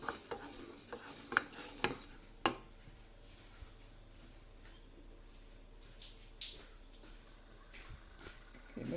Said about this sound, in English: Keep mixing it so it doesn't.